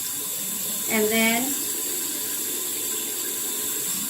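Warm water streams steadily from a bathroom tap as a continuous hiss throughout, while a voice briefly speaks over it.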